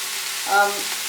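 Prawn heads and onions frying in a pan, a steady close sizzle with a brief louder surge in the middle of the short stretch.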